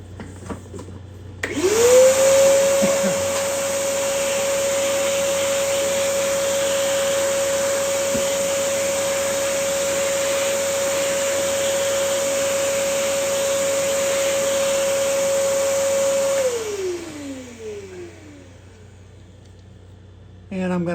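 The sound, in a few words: shop vacuum cleaning up wood chips after cutting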